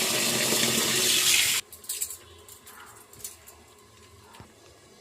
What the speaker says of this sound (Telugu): ఇప్పుడు చికెన్ కడుక్కుంటున్నా శుభ్రంగా.